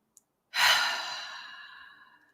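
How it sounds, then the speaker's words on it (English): A single slow, deep breath, a long airy exhale that swells quickly and then fades gradually over about two seconds, close and alone with no talking, taken during a calming relaxation exercise. "So let's just take a few breaths."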